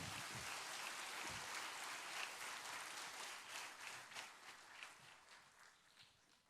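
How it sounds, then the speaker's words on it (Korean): Faint, distant applause from a church congregation for a missionary during a Sunday worship service, a soft continuous patter that slowly fades toward the end. "말씀과 찬양을 주신 우리 성교사님께 다시 한번 뜨거운 박수 부탁드립니다"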